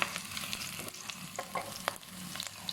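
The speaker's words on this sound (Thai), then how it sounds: "พอหอมได้ที่ก็เอาหมูสามชั้นของเรา มาผัดเตียวรวนรวมกันนะคะ" Pork belly stir-fried in a hot pan, a close, crackling sizzle broken by rapid scraping and clattering strokes of a spatula, busy and continuous with no voices.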